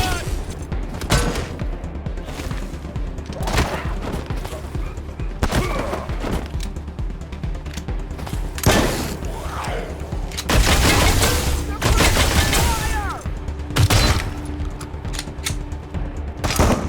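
An automated turret in Wasteland 3 fires in repeated bursts of rapid gunshots, loud and close, mixed with thuds and mechanical clatter throughout.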